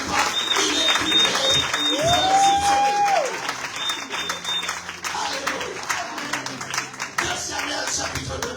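A church congregation claps along steadily through the whole stretch, broad and fairly loud, with a rising sung or whistled tone and voices mixed in under the clapping.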